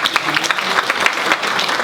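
Audience applause at a forum, brief dense clapping from a crowd, loud and close with individual claps distinct in the mix.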